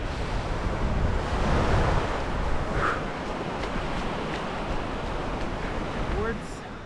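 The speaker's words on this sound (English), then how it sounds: "I don't know if you hear me now, it's a bit windy" Steady wind gusting across a wide, flat sandy beach in Weligama, Sri Lanka, with surf rolling behind it. The roar is broad and continuous, a little stronger early on and easing toward the end, with no talk heard.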